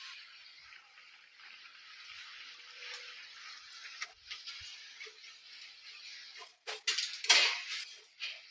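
Chicken puffs frying slowly in a pan give a soft, steady hiss of oil, with a few faint clinks and scrapes that grow louder near the end as the pieces are moved.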